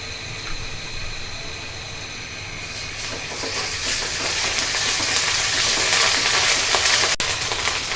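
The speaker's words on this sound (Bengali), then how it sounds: "এবং এই পেঁয়াজগুলো সুন্দরভাবে ভেজে নেব।" Onions fry in oil for a spicy koi fish curry, giving a steady close sizzle that grows gradually louder, with no voices.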